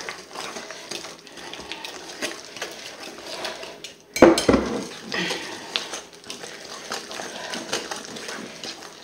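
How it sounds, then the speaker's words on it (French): Tiramisu mixture stirred in a bowl, quiet scraping and swishing with a sudden louder clatter of utensil against the bowl partway through, then steady stirring continues. "Et on va remuer."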